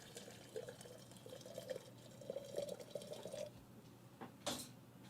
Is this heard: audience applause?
no